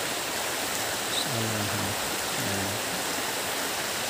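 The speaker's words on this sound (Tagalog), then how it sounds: "Ito ang ilog." A river flowing steadily with a broad, constant rush of water throughout, while a voice speaks briefly in the background.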